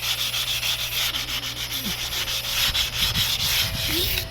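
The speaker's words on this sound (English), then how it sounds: "all you do is just go over it nice and slowly with 200 grit" Close, steady rasping of 200-grit sandpaper worked slowly by hand over the bullnose edge of outdoor tile steps, with continuous back-and-forth strokes and no talking.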